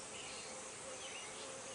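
Steady, dense insect buzz of bees hovering around a beehive super as it is lifted off during honey harvest, a continuous close hum with no pauses.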